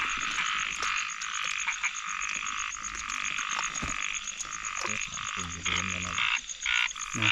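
Frogs croak continuously in a dense, loud chorus, with one near frog giving a steady repeated call over the thick layered din, alone without voices.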